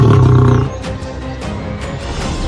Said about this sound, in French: Face au mâle alpha, il poussa un rugissement puissant,